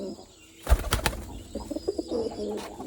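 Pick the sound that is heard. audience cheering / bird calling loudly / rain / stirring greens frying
bird calling loudly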